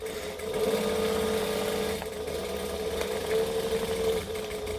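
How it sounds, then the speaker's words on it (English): A sewing machine stitches a seam with a half-inch allowance, running in a close, steady whirring hum with a brief pause and change as it back-stitches, then resumes, no voices. "So I'm going to stitch and back stitch."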